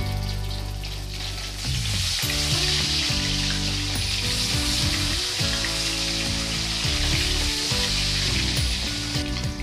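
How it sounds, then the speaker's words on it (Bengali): Flipped rohu fish pieces fry in oil in a pan, a steady close sizzling crackle that keeps going without a break, with background music playing underneath. "মাছের এক পিঠ ভেজে নেওয়া হয়ে গেছে। এবার আমি অপর পিঠে উল্টে দেব।"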